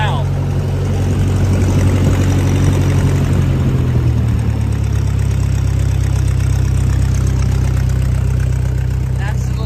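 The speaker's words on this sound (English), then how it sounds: "That's the little tractor just idling, folks." A 1956 Massey Ferguson MH50 small tractor engine idles steadily and loudly, a low constant chugging rumble that never changes pace.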